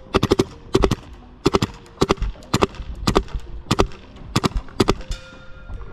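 Rapid bursts of video game gunfire aimed at glass, sharp close cracks in quick clusters of three or four shots with brief gaps, ending in a brighter shattering ring.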